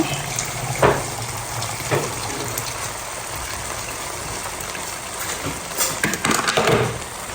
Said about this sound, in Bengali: চাল দিয়ে দিছি, তো পানি দিয়ে দিব